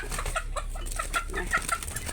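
Backyard chickens clucking in short, choppy bursts, several birds overlapping at close range over a steady low background hum.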